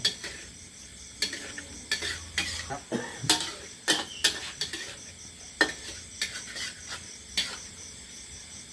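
Spicy eel is stir-fried in a pan with a utensil, giving irregular clinks and scraping taps over a faint background hiss, moderately close with no talk.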